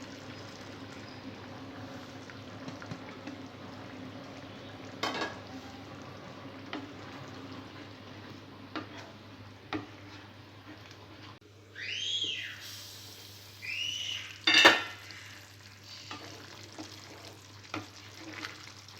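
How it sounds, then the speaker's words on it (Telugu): Fried okra pieces go into a simmering masala gravy and are stirred. A faint, steady sizzle and bubbling sit under a low hum, broken by a few soft clinks and scrapes of a spoon against the pan. "గ్రేవీ మరుగుతున్నప్పుడు ముందుగా ఫ్రై చేసి పెట్టుకున్న బెండకాయ ముక్కలు వేసుకోవాలి"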